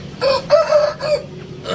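Aseel chickens, a hen and chicks on a rooftop farm, cluck and squawk in short bursts at close range, several quick calls over a couple of seconds.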